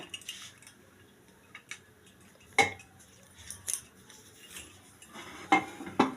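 A bowl is set down inside a pressure cooker, giving several sharp, scattered clinks and knocks of cookware over a quiet background, with no one speaking.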